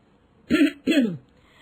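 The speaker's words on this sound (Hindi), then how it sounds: "हल्की सी खांसी करके सबका ध्यान आकर्षित कर लेती है।" Two short throat-clearing coughs close together, soft and near, followed by quiet.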